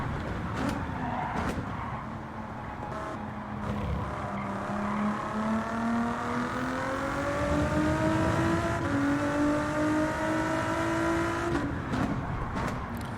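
An Acura-liveried prototype race car in Gran Turismo 7 at Daytona holds a continuous engine drone that climbs slowly in pitch as it accelerates, then drops briefly at a shift and builds again, loud and close.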